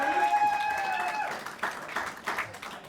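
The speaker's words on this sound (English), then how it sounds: "Brought his cheering section." Family members cheering and applauding at a fire academy graduation ceremony, a burst of clapping with a sustained whistle or cheer at the start, then scattered handclaps from a small group, mid-distance.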